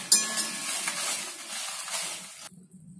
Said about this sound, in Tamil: இப்போ இந்த மிளகாய் இத நல்லா செவக்க நல்லா வறுக்கணும்.